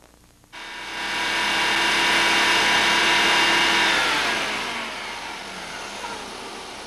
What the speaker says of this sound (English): Briefly run wide open to check RPM limitation.